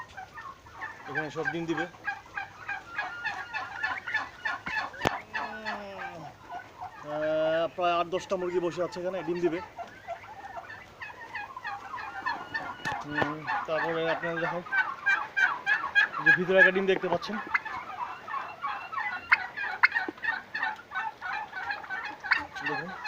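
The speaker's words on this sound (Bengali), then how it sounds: "দেখুন টার্কি, রয়্যাল টার্কি বলা হয় এটাকে সাধারণত" Large royal turkeys on a farm gobble repeatedly in bursts, moderately close, while someone talks over them almost throughout.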